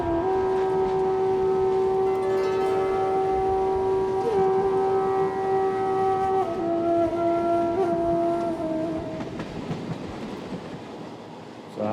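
A loud, continuous train horn blares with steady tones over a constant rumbling of rail cars near Bangalore, fading slightly toward the end.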